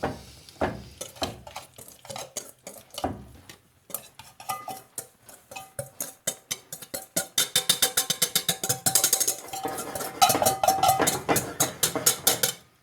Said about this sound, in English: So I'm gonna mix this stuff in here.